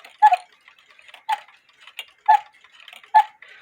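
An Austrian quarter-hour cuckoo clock under repair ticks alone at close range, with about four distinct, evenly spaced ticks and faint mechanical clicks between them.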